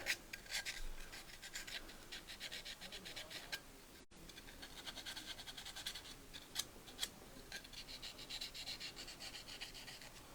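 Hand file rasping burrs off the lips of metal firearm magazines, a steady run of short scratchy strokes, close and fairly quiet, with no talking.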